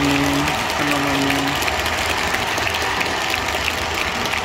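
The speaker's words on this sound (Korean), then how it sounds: "여러분 다시 한번 감사의 박수를 부탁드리겠습니다" Large crowd applauding in thanks at a church prayer gathering, a steady wash of clapping that carries on evenly throughout with a low hum beneath it.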